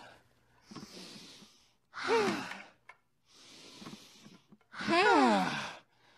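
A cartoon character takes a few deep breaths: two soft, airy inhales alternate with two louder, voiced exhales, each lasting about a second, close and clear with no other sound.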